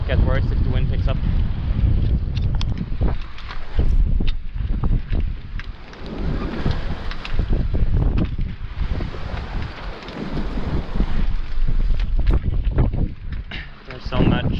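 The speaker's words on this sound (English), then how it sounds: "It's blowing enough that we actually move with only the main." Wind gusting across a sailboat out at sea, a steady roaring buffet with rustling flaps and bumps, loud and close throughout, with someone talking intermittently over it.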